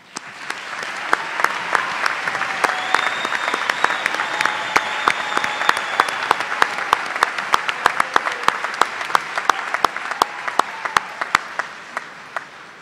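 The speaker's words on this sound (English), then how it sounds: "offering them a round of applause" An audience at a Washburn University spring 2016 commencement for the Schools of Business and Nursing claps. The dense, sustained applause fills the hall and thins toward the end into scattered individual claps.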